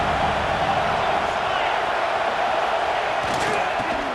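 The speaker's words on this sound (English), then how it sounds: "Listen to this crowd just shaking the girders of this place, trying to help their defense." Stadium crowd roaring at a football game, a dense, loud wall of noise that holds steady throughout with no break.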